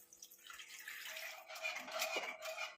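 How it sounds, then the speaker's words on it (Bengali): Water poured into a pan of simmering potato curry masala for stuffed potato dum, a steady splashing pour with faint sizzle, close and alone without talk. "এবার আমি এর মধ্যে অ্যাড করব একটু জল।"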